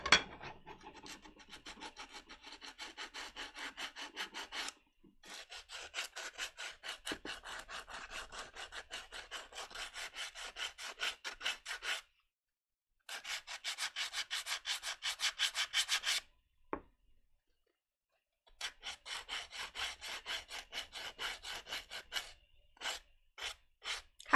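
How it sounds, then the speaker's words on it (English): Sanding a craft piece by hand: a continuous rapid rasping scrape in long back-and-forth bursts, close and fairly quiet, broken by several silent pauses, with no talking. "I'm gonna do a little bit of sanding"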